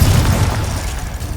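A Confringo blasting spell detonates in Hogwarts Legacy, a deep, booming explosion with a heavy low rumble that fills the whole moment and slowly decays, loud and close with no voices over it.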